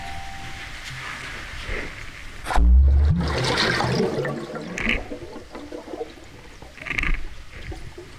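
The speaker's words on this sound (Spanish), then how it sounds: "se hacen las primeras pruebas lanzando piedras al agua" Stones tossed into water on an icy expedition land with one heavy splash, followed by gurgling, trickling water and a few smaller splashes that fade.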